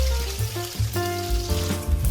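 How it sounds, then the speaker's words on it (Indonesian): Eggs fry in a pan without a nonstick coating, giving a loud, steady sizzle and spatter close up, with tonal clinks and pan sounds riding over the crackle. "Kemudian goreng telurnya."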